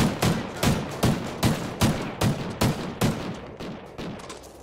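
Rapid gunfire in a Search and Destroy match of an online shooter game, ten evenly spaced loud shots at a steady rhythm, fading slightly toward the end.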